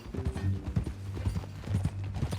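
Horse hooves clip-clopping in Red Dead Redemption 2, a quick steady patter of hoofbeats close by with a low rumbling game background.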